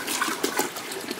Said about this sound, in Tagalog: Magtapon na siya ng tubig.